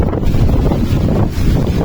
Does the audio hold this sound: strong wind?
yes